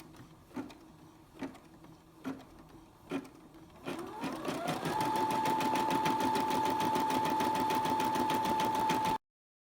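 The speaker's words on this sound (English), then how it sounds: "When the machine finishes with that last stitch going, the satin stitch around the flower" A Brother SE400 embroidery machine sewing a satin stitch around a flower: a few spaced thumps, then a steady, fast, loud mechanical whir with an even needle rhythm that runs until it stops abruptly.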